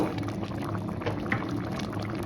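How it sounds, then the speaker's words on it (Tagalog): Malunggay leaves dropped into a pot of boiling okra, with a steady bubbling, simmering wash that holds even throughout and no talking. "So, ihulog ko na yung aming malunggay."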